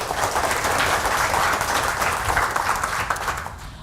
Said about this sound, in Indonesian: Tepuk tangan buat kita semua dong Bapak sekalian ya.